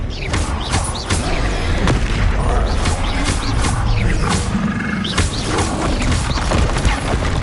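Spell blasts cast in combat in the Hogwarts Legacy video game, a dense run of repeated booming impacts and crackling bursts over a loud rumbling game soundscape.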